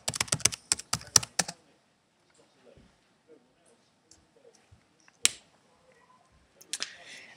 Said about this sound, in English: then you type in your password.